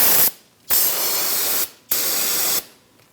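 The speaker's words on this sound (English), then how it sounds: "We'll clean up this area with a little bit of brake parts cleaner." Three loud, steady hissing bursts of brake parts cleaner sprayed onto the brake caliper area of a 2009-2014 Ford F-150, each lasting about a second with short silent gaps between them.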